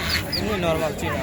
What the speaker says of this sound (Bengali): এগুলো চীনা হাঁসের বাচ্চা তো তাই না